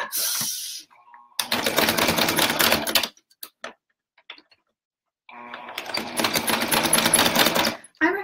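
A sewing machine stitching fabric oven mitts runs in two close, loud bursts of rapid mechanical clatter, each around two seconds long, with a few faint clicks and ticks in the pause between them.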